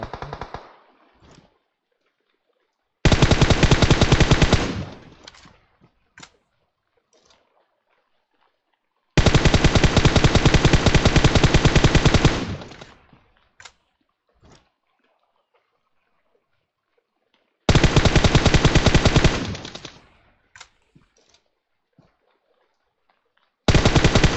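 Sustained automatic gunfire from a PUBG Mobile match comes in three long, loud bursts of a few seconds each, separated by near-silent gaps with scattered single shots, and a final burst starts at the very end.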